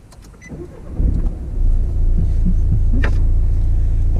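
A car engine turns over and settles into a steady low idle during a driving lesson, rising from a brief crank to a continuous rumble with no talk.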